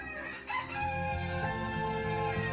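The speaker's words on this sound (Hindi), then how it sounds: "सुबैया रंग बिरंगी मुर्गियों को एक तरफ एक टोकरी और दूसरी तरफ एक और टोकरी में रखता था।" A rooster crows loudly with a long drawn-out call, while other chickens cluck close by.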